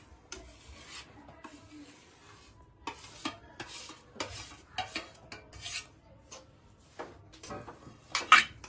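Besan, raisins and cardamom powder are stirred together by hand for rava besan ladoo, giving soft intermittent scraping and rubbing strokes with a few brighter clinks of spoon against the pan, close and fairly quiet, with no talking.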